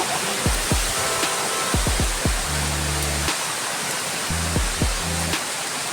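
Water pours over a mysterious hilltop waterfall in a steady, broadband rush that stays loud throughout, broken by a few low thumps and rumbles.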